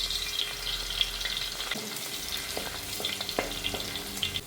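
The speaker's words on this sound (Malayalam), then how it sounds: "വെളിച്ചെണ്ണ ചൂടായി വരുമ്പോൾ അതിലേക്ക് അരിഞ്ഞു വെച്ചിരിക്കുന്ന ഇഞ്ചി ഇട്ട് കൊടുക്കാം" Chopped ginger and green chillies fry in hot coconut oil, making a continuous soft sizzle with a few stirring scrapes and taps, close and steady, with no talking.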